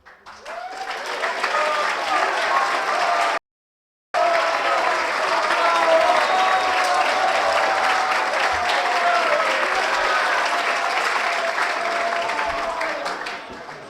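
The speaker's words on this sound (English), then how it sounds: "Gentlemen, how about another round of applause for both candidates?" Sustained audience applause fills a debate hall after candidates speak at a 2015 assembly session, a dense steady roar of many hands clapping with a few faint voices beneath, loud and continuous apart from one brief cut.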